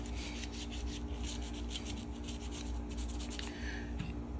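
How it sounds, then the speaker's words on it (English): Faint, steady scrubbing strokes rub over a cheap secondhand Swiss Army knife being cleaned without harsh chemicals, a soft continuous rasp with no talking. "So let's get it a little more scrubbing here."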